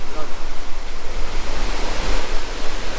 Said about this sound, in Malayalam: അത്രയും നല്ല ഫോഴ്സിലാണ് വെള്ളം താഴോട്ട് പോകുന്നത്.